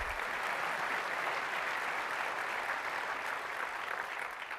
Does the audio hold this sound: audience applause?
yes